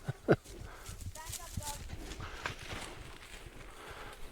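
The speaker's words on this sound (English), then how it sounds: "Thundering hooves." A brief burst of sheep hooves pattering past, faint and quick, with a short sharp cry at the start and outdoor noise around.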